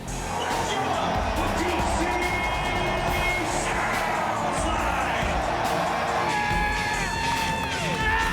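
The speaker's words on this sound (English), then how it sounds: "The decibel level of the crowd during the introductions and the start of the game." Washington Nationals fans at a World Series game in the nation's capital, roaring and cheering during player introductions, a dense, loud, unbroken wall of crowd noise with whoops and whistles rising above it.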